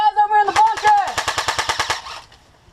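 Rapid automatic firing from an airsoft gun during an outdoor firefight game, a burst of about a dozen sharp clicking shots in quick even rhythm, close and loud, preceded by a brief shouted voice.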